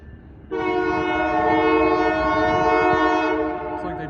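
CPKC freight locomotives on a local run pass close by, sounding a loud, sustained horn blast for about three seconds over the steady rumble of the train on a cold day.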